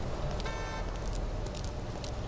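Car horns honking in the Autobahn Polizei Simulator game, a brief harmonic toot over steady traffic rumble, with short noisy bursts scattered through the clip.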